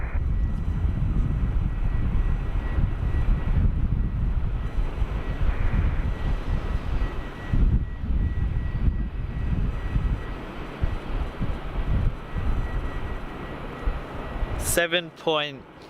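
A jet taking off at Sydney Airport makes a loud, steady engine roar that swells and fades across most of the stretch, with tower radio chatter mixed in. The roar ends abruptly in a short burst of electronic tones.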